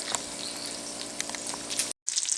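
Bacon sizzles in a frying pan with a soft, steady crackle and scattered pops, moderately quiet and close, and cuts out for a brief moment near the end.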